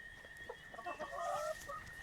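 Backyard chickens cluck softly in short, scattered calls at a moderate distance, with a steady high electrical whine running underneath on a quiet farm.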